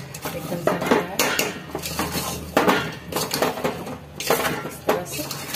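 A spoon stirs amla (Indian gooseberry) pickle in oily masala in a metal pot, giving repeated close clinks and scrapes against the pot's sides in an uneven rhythm.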